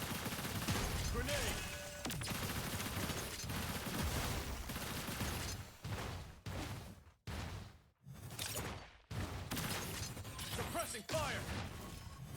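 Grenade blasts and gunfire from Zed in a competitive Breach match, dense and continuous with brief dropouts, layered under game effects and a caster's voice.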